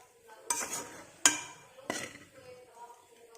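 A spoon scrapes and clinks against a pan as idli upma with lemon juice is stirred, giving three distinct metallic strokes with quieter scraping between them, close by.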